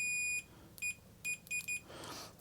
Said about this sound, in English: you get the beep